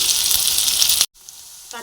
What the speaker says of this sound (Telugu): కరివేపాకు కొంచెం మాడిందండి, ఉల్లిపాయ బాగా ఫ్రై చేసుకున్నాం